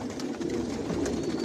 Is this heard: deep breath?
no